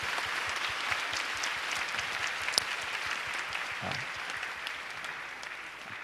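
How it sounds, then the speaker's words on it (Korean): A church congregation at a worship service claps together in warm, dense applause that holds steady for several seconds before easing slightly toward the end. "우리 두 사람에게 박수 보내겠습니다."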